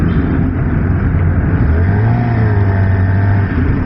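A Suzuki GSX-R750 sport motorcycle engine revs loud and close, its droning pitch climbing steadily upward as it accelerates, with no one speaking.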